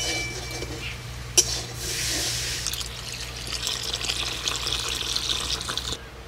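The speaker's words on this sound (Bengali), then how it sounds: "এবার দিয়ে দেবো জল।" Water pours into a cooking pot of spiced potato and fish curry being prepared outdoors in a village. It makes a steady splashing gush for several seconds after a sharp knock, then stops abruptly near the end.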